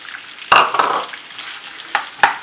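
Two whole onions frying in a pan give a soft, close sizzle under a few sharp scrapes and clatters of a utensil stirring, the first loud and the later ones spaced apart, with no voices.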